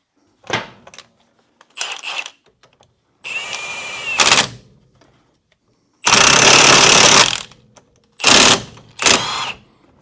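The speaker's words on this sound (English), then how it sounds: "hammer it on anyway" Hammer blows driving a part onto the shaft of a 1968 Plymouth GTX in a garage, a series of loud, close metallic bursts in uneven clusters with short pauses between strikes.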